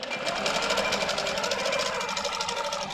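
A sewing machine bastes a quilt panel with a fast, even mechanical chatter of needle strokes, running continuously and fairly close throughout.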